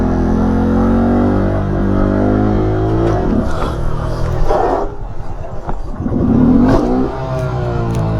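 A Honda Grom motorcycle engine revs loud and close during wheelie practice, holding a high droning pitch, then dipping and surging again through throttle changes.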